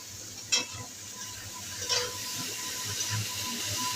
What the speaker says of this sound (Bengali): পেঁয়াজের লঙ্কাটা অনেকটাই ভাজা হয়ে গেছে, এর উপরেই আমি এখানে যে সবজিটা দিয়ে দিচ্ছি।